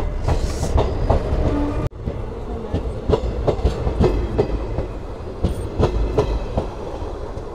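The Teesta Torsa Express (13142) arrives at Samsi station, its wheels clacking rhythmically over rail joints under a continuous rumble, heard from inside the train at close range, loud and steady.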